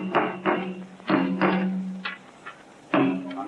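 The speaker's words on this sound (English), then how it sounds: "Right, try and hammer in a nail." Hammer blows driving a nail into a wall: about six sharp, close knocks in an irregular rhythm, some with a brief ringing tone, with quieter gaps between them.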